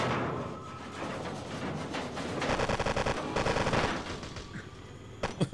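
Rapid bursts of automatic gunfire crackle in the video game Total Overdose, dense rattling volleys over continuous game noise, swelling toward the middle and ending with a couple of louder single shots.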